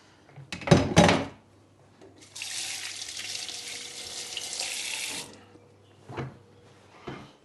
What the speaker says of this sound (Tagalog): Ay, hugas lang ako ng kamay.